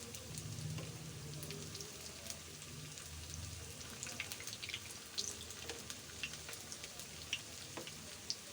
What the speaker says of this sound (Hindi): तो ऐसे ही हम साइड चेंज कर करके